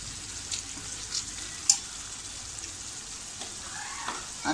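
Onion and tomato sautéing in oil for chicken lapeta, a faint, low crackle of frying with a few soft taps and stirring scrapes, quiet and steady with no voices.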